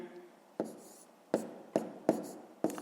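A pen taps and scratches numbers onto paper by hand in a series of distinct strokes and clicks, irregularly spaced and close up, with faint low talk at the start.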